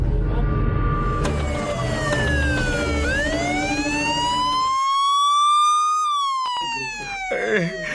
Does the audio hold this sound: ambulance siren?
yes